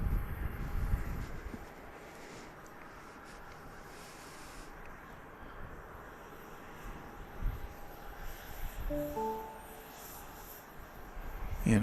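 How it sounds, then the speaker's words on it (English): An airplane departs from runway 31 right at Dallas Love Field, heard as a faint, distant engine rumble that swells and fades under outdoor ambience, with a brief tonal whine near the end. "this is the plane that's going to Lakeland"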